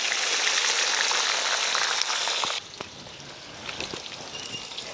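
Mustard seeds, fennel seeds, onion and green chillies frying in hot oil in a home kitchen, giving a loud, steady sizzle for the first half that then drops to a quieter crackle with scattered pops.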